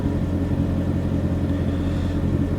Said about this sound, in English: What does it do when we blip the throttle?